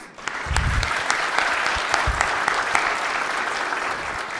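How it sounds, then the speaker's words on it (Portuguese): A crowd applauds steadily, dense clapping sustained for several seconds with a few sharper claps standing out, loud and close. "Uma salva de palmas."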